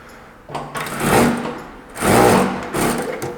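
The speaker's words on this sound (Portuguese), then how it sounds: "ele vai começar mais devagarinho um pouco, a linha já vai pegar no tecido, já vai fazer um nozinho" A Fulian M33-D5 sewing machine stitches fabric, its motor whirring up in two or three rising bursts with a rapid mechanical needle chatter, loud and close, with short pauses between runs.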